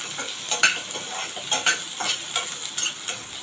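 Onion and garlic cloves sauté in a pan with a soft steady sizzle, broken by regular scraping clinks of a spoon stirring, close up with no talk.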